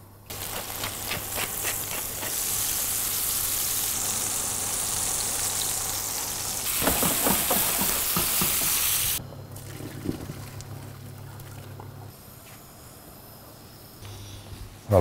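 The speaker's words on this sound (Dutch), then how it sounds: "En die balkjes die gaan we simpelweg bakken" Loud, steady sizzling and crackling of meatballs frying in a hot pan, with bursts of spattering and a quieter hiss toward the end.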